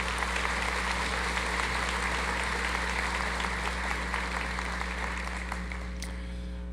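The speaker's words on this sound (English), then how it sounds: "Would you please give a round of applause to our stage party?" A large crowd at a Roane State commencement ceremony applauds steadily and fairly softly, as if heard from across a big hall, over a constant low electrical hum, with the clapping thinning slightly toward the end.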